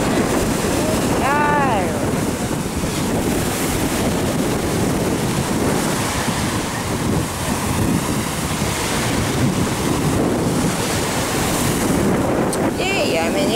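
Waves and surf roll steadily onto Brindisi beach in Italy, a loud, continuous wash of water churned by heavy wind buffeting against the microphone.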